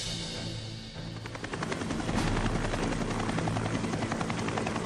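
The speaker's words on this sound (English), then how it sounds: "choppers brought in a 3rd platoon of B Company and one of A Company" Military helicopters fly into a landing zone carrying an infantry platoon, their rotors a loud, steady, rapid thumping that grows stronger and fills the whole clip with no voices.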